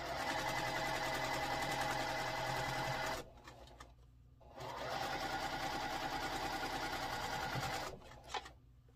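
A sewing machine stitches quilt block units in two fast, steady runs of rapid mechanical whirring, separated by a short pause and ending with a brief clack.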